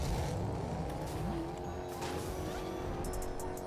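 A car drives in a video game, its engine humming steadily with a brief rising whine partway through, close and continuous.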